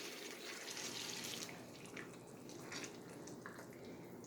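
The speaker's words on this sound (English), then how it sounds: "we're just going to put just a little water, because we don't want to drown it" Water runs and splashes into a cooking pan, a brief stream followed by softer trickles and drips, close by.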